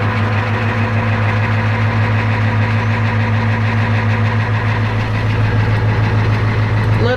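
A Ford F-250 with a 7.3 IDI diesel idles after a cold start. It makes a loud, close, clattering diesel rumble with a steady rhythmic knock that continues unbroken throughout.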